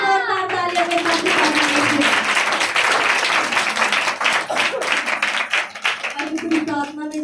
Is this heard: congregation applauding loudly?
yes